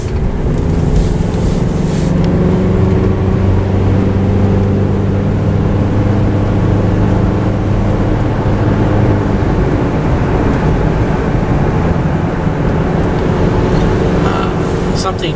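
A 2011 Subaru car cruising on the open road gives a steady, fairly loud drone of engine and road noise that holds unbroken through the whole stretch.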